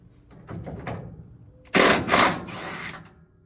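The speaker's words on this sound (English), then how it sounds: "let's take this nut off, this top nut, and then we'll get out the bottom" A tool works a top nut loose on a 1985 Chevy C10 rear suspension, giving a short mechanical rattle and then a loud, harsh burst of impact whirring lasting just over a second, close and alone.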